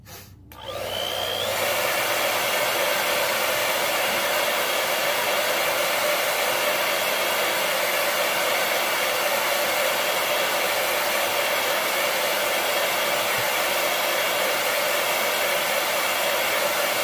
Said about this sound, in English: I'm going to hurry it along with a blow dryer.